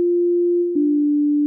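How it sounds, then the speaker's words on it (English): A single steady pure tone from an Absynth 5 synthesizer oscillator sounds a sustained note, clean and constant, with a brief click and slight pitch step midway before it holds again to the end. "This will generate a sound corresponding to the frequency of the note being played."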